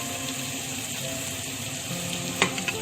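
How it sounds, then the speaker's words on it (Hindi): Chicken added to spices frying in a pan, a steady close hiss and sizzle throughout, with a clatter and splash as the pieces go in near the end. "अब मैं इसमें ऐड करने जा रही हूँ अपना चिकन।"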